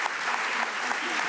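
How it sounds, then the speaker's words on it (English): Dense, steady applause from a crowd at an Indigenous Liberation Day gathering, a continuous wash of many hands clapping close and loud throughout. "Give a warm applause for both Jero and Shamena."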